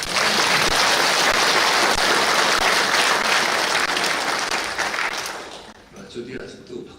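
A church congregation breaks into loud, sustained applause, a dense roar of many hands that tapers off and gives way to a voice speaking in the room.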